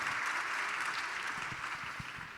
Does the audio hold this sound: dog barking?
no